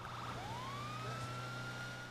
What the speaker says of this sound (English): Let's get our siren back on.